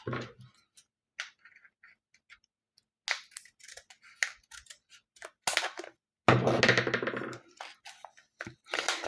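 Scissors snip open a bead package in a series of sharp, close clicks and cuts, with brief pauses between bursts and a louder, longer rustle of packaging toward the end.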